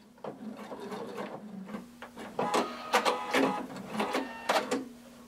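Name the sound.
sewing machine back stitching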